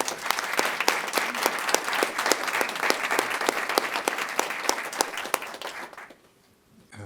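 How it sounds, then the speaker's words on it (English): Applause at a school board meeting, a room of people clapping steadily and fairly close for about six seconds before it fades out quickly into near silence. "Let's give them all a round of applause."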